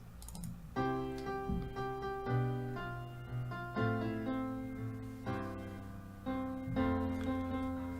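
Sustained melodic instrumental pop music with steady chords and repeating phrases, played alone with no voices.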